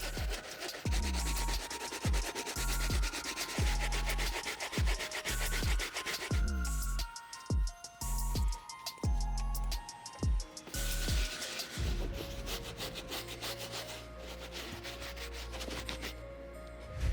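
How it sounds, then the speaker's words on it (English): A brass bristle brush scrubs the soles of a rare sneaker during restoration, giving repeated rhythmic rubbing and scratching strokes, close and loud, with no talking. "I'm gonna start off with the brass bristle brush. I'm gonna go in, get the soles as clean as possible."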